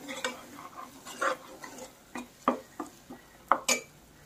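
Masala spices roasting in a pan for Kolhapuri misal, with a spoon scraping and clinking against the metal in irregular strokes over a soft sizzle, close and fairly quiet.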